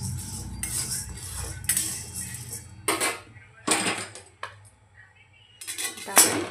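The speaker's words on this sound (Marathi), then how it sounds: "हे बघा आता डाळ आपली छानपैकी भाजत आलेली आहे." Dry lentils being roasted in a metal pan for a Diwali chakli flour mix, stirred with a spatula in bursts of scraping and clattering against the pan, with quieter gaps in between.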